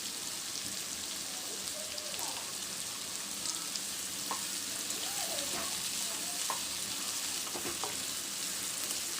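Onions and green chillies sauté in hot oil for a bitter gourd thokku, giving a steady, even sizzle like light rain with a few faint stirring scrapes and no clear speech.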